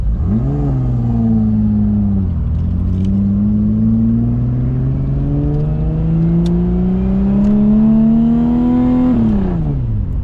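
A turbocharged Cutlass wagon hot rod revs hard and pulls away, its engine note climbing in long sweeps with a brief dip between pulls, loud and close with no talk.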